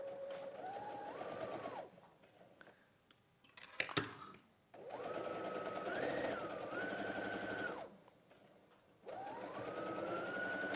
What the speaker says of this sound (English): we're going to just stitch along there